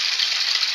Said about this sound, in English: See how the water is siphoning out.